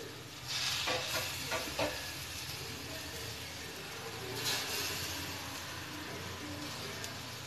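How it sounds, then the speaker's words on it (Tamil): A spatula stirs a plantain stir-fry with grated coconut in a pan, giving soft scraping strokes over a steady low sizzle, faint and close. "இப்போ லேசாக பிரட்டிக்கிறேன் தேங்காய் துருவில்"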